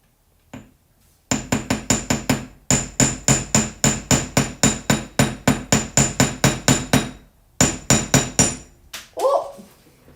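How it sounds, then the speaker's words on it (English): Rapid, loud metal hammering at a jewelry-making bench, struck in steady even bursts of blows with two short pauses, ending with a brief faint sound after the last strikes. "I'm just going to do some hammering while we wait for that."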